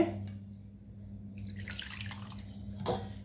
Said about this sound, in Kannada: ಈಗ ಪುನಃ ನಾನು ಇದಕ್ಕೆ ನೀರು ಹಾಕ್ತೇನೆ.